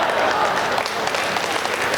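A crowd at a Hindi comedy poetry gathering claps steadily, a dense, even patter of applause filling the whole stretch at moderate loudness with no one speaking over it.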